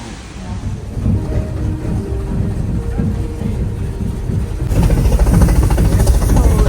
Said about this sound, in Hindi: ये 2 आवर्स की ट्रेन है, 1 आवर जाते रहना और वापस आते हैं।